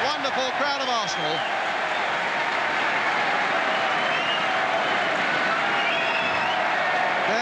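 Broad, steady crowd noise of Arsenal supporters at the 1970-71 FA Cup final win, a dense wash of applause and cheering under a commentator's voice.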